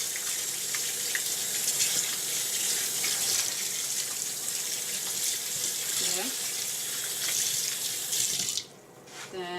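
Cut chicken washed under a running kitchen tap, a steady hiss of splashing water for several seconds, with a brief low voice partway through, before the flow cuts off near the end.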